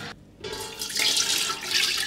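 Water pours and splashes as lentils are drained or rinsed in a pot, a short gap followed by a steady rushing flow that swells loud and close.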